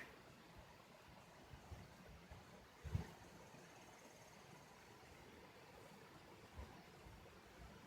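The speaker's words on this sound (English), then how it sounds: "I'm going to just let you hear the creek for a minute." Steady, soft rushing of a creek flowing, faint and continuous, with a brief louder knock near the middle and no talking.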